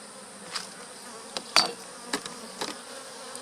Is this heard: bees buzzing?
yes